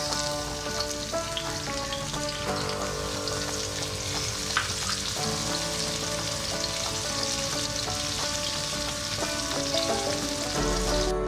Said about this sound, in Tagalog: Pagkatapos po ng bawang, maglalagay na po yung sibuyas.